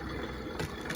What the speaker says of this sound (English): You can hear my dishwasher running in the background.